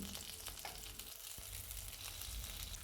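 Pumpkin pieces fry quietly in a pan, a soft, even sizzle with a faint scrape or two, low in level and without speech.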